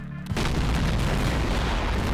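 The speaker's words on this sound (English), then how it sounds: "Nuclear explosions." A huge booming nuclear explosion in Garry's Mod erupts after a brief moment, followed by a sustained loud roaring rumble that fills the rest of the clip.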